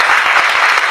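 Audience applause during a political speech on structural Islamophobia and the government Prevent strategy: steady, dense clapping from a crowd, filling the whole short moment without a voice over it.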